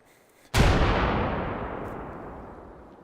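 A flashbang grenade detonating in the VR shooter game H3VR: a single sudden, loud, booming blast after a brief quiet, followed by a long, slowly fading rumble.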